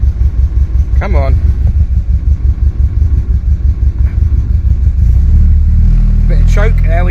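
A Hillman Imp engine on choke cranks and catches, a loud rhythmic low chugging that settles into a steadier rumbling idle, with a voice speaking briefly over it.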